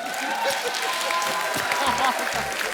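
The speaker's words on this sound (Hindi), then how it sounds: "जोरदार ताली हो जाए।" On a celebrity talk show stage, a studio audience claps steadily through the whole stretch, with voices and other sounds running underneath the applause.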